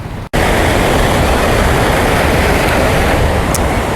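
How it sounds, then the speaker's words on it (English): Pacific Ocean waves break near the Malecon boardwalk in Mazatlan, Mexico, making a loud, continuous roar of surf with heavy wind rumble, and a brief dropout near the start. "the waves come very close"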